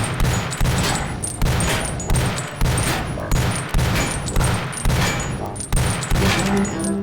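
Rapid, regular bursts of gunfire in a VR training shooter, with shots aimed at cubes firing in a steady rhythm of loud, close blasts about every half-second, with no talking.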